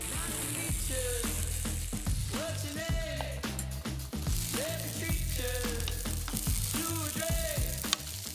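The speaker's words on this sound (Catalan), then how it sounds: "els posarem a la paella i els saltem una miqueta" Young peas sautéing in a frying pan give a loud, steady sizzle throughout, with short rising whistly squeaks and scraping stirring sounds recurring every second or so, and no talking.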